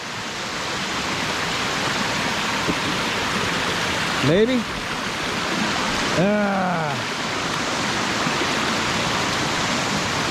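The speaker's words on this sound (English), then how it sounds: "I want to show you this waterfall." Hell's Hollow Falls in McConnells Mill State Park, Portersville, Pennsylvania, roars as a steady, close rush of falling water throughout, with brief voices and whoops breaking through twice.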